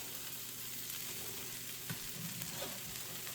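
An artisan grilled cheese sandwich fries in a pan, giving a steady, close sizzle with soft crackling throughout and a couple of faint clicks as it cooks.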